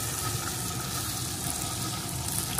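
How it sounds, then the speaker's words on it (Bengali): Garlic and onion fry in a pan for a spicy chicken curry, giving a steady, dense sizzle that carries on evenly at close range with no voices. "এখন রসুনের সাথে পেঁয়াজটাও ভালো করে ভেজে নেব।"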